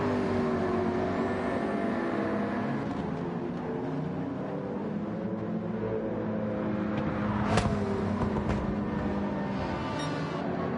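Racing car engines at Brands Hatch in Gran Turismo 7, including a BWT Mercedes, drone steadily and loudly throughout, a continuous layered whine with a brief sharper rise near the middle.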